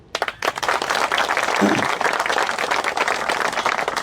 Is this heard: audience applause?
yes